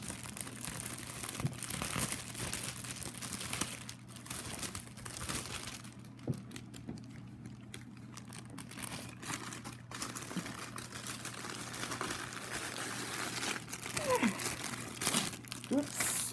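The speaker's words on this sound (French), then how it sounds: "puis je vais remettre ça dans l'enveloppe" Paper and plastic crinkle and rustle as printed cross-stitch canvases are slid back into an envelope, close and uneven, with a voice speaking briefly alongside.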